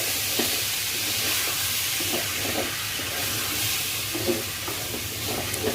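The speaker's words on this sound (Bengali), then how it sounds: "এরপর চালগুলো ঢেলে ভাজা ভাজা করছি" Rice grains fry in hot oil in a pot with a steady, loud sizzle and hiss, broken by faint scraping stir strokes throughout.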